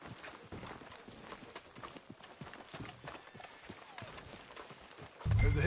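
Horse hooves clip-clop at a walking pace in Red Dead Redemption 2, a run of quick, fairly soft hoofbeats over a low ambient bed, ending in a brief louder low rumble.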